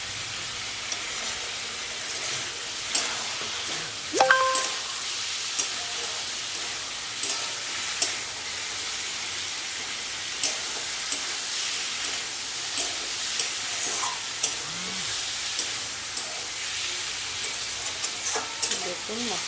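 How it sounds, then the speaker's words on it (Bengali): Half-boiled potatoes sizzle gently in a pan as they are stir-fried with spices, with a steady soft frying hiss and occasional scrapes and clinks of the stirring spoon throughout. "তাই আলুগুলো মশলার সঙ্গে ভালো করে কষিয়ে আলুগুলো আগে একটু হাফ সেদ্ধ করে নেব।"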